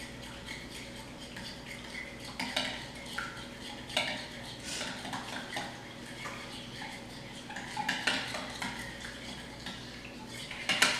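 A spoon stirs plant-based dressing ingredients together in a bowl, making repeated light clinks and scrapes against the sides in an uneven rhythm. The sound is close and fairly quiet, with no speech.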